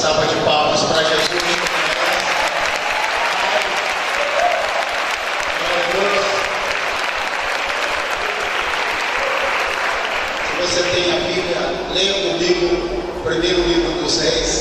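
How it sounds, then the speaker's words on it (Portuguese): Congregation at a church worship service claps in sustained, dense applause, loud and continuous throughout, with voices and cheers mixed in, and some talk rising near the end. "Mais uma salva de palmas para Jesus."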